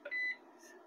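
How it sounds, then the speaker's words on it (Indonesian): A batteryless hybrid solar inverter's buzzer gives a single short electronic beep, a clear steady tone lasting about a fifth of a second, followed by a faint hum. "ini adalah suara bip-bip nih loh, suara tatit-tatit"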